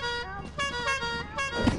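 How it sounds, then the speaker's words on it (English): A vehicle horn in a video game honks in a brief series of short tones, fairly close, with a faint voice and background noise underneath. "Why are you honking that horn so much?"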